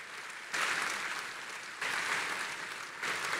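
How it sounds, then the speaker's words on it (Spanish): A church congregation bursts into applause in three waves, each clapping burst starting abruptly and holding steady, fairly loud and crowded. "Y apláudenlo al apóstol Pedro."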